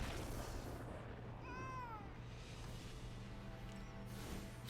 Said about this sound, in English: Cat meows when you concede.